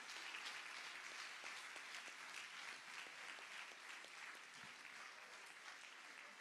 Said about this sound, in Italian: un applauso fortissimo per il capitano dell'Onda